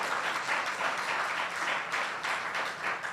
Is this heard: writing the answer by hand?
no